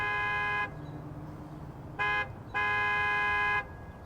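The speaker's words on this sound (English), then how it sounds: "he honks the horn and gets Rust to cut his interview short" A car horn sounds three times in a quiet setting: a long blast, then a short toot, then another long blast, clear and fairly close over a low background hum.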